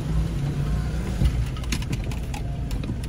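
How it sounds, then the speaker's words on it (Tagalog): Road traffic in heavy congestion: a steady low rumble of car engines and road noise, continuous and fairly close, with no talking. "Traffic na traffic."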